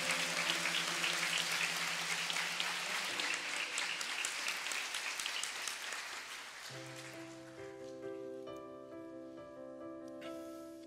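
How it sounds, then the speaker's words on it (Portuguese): Audience applause during a Catholic prayer gathering, dense clapping that fades over the first several seconds while sustained organ or keyboard chords play underneath and carry on alone. "Pode aplaudir a tua mãe."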